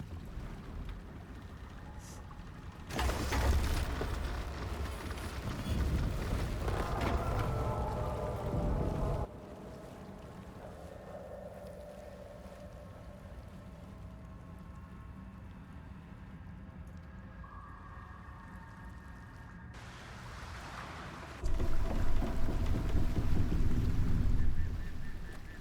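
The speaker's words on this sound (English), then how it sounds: "A vessel wobbles on the lake's murky waters." A wooden boat creaks and groans as it rocks on a murky lake in the video game Baldur's Gate 3, with two sustained bursts of creaking separated by a quieter stretch of water ambience.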